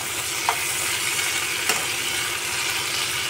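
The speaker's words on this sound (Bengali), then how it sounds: "যাতে সুন্দর করে ব্রাউন কালারের ভাজা হয় সেইটা ভেজে নিচ্ছি" Pomfret fish and tomato fry in a pan, browning in oil with a steady loud sizzle throughout, broken by a couple of faint clinks as the food is stirred.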